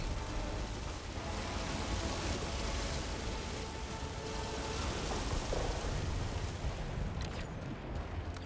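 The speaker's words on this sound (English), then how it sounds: "we got an ion storm" An ion storm in Helldivers 2, a steady rain-like hiss with low rumbling, thunder-like texture, constant and fairly faint with no clear breaks.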